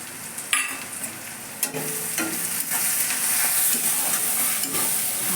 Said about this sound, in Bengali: কুচনো পেঁয়াজটা দিয়ে ভালো করে নাড়াচাড়া করে নিয়ে